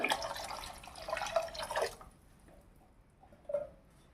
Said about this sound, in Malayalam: ഇനിയിപ്പോൾ ഇതിലേക്ക് തേങ്ങയുടെ രണ്ടാം പാല് ചേർത്ത് കൊടുക്കാം